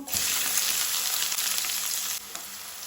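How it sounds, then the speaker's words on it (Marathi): Onion, cumin seeds and urad dal sizzle steadily in hot oil for a Goan rava upma, a loud, close, continuous frying hiss that dips slightly near the end. "आतां आमकां मातसो कांदो बरो तळसून घेवपाक जाय"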